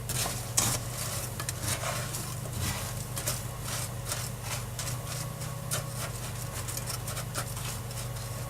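Vegan toasted almond brittle is stirred steadily in a pan, a continuous scraping and rubbing with faint sizzling and occasional utensil clinks, close and alone under a low steady hum.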